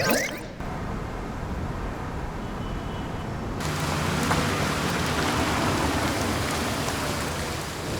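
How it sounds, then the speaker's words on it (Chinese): Steady rain pours outdoors as a broadband hiss, with a heavier, fuller downpour after a few seconds and faint background ambience. "下雨了，你们带伞了吗？"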